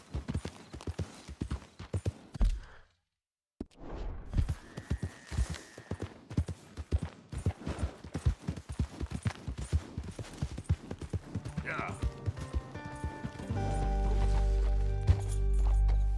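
Horse hooves clip-clop in a video game, a close, steady run of hoofbeats that pauses briefly, then resumes, with game music rising toward the end and occasional speech.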